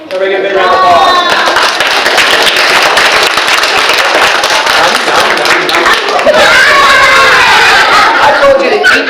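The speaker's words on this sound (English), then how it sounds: "Everybody get a big round of applause" A crowd at a live animal show breaks into loud, sustained clapping mixed with chuckles and scattered laughter, sharp claps crackling throughout.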